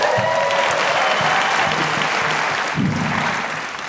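A live comedy show crowd in a theatre claps and cheers loudly in a dense burst, with scattered whoops, before the applause begins to fade.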